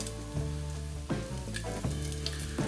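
Shredded chilli beef fries until crispy in a pan, giving a continuous close sizzle with crackling bursts and occasional stirring scrapes, along with a low steady hum from the stove, and no talking.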